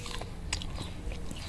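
Fresh garden produce, sweet and just picked, is bitten and chewed. A few quiet, crisp crunches come close up and alone.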